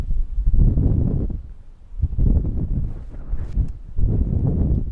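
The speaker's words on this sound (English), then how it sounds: "it's very windy today." Gusty wind buffets the microphone on a golf course at Royal Westmorland, coming in three loud low rumbling surges separated by brief lulls.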